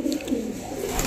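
A male Rampuri pigeon, a feathered-foot high-flyer, coos in a low, continuous murmur close to the microphone, the soft repeated calls running steadily for about a second with no voices.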